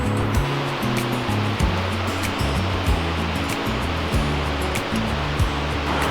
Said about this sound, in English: Ahead of us, straight down the trail, is an absolutely gorgeous waterfall.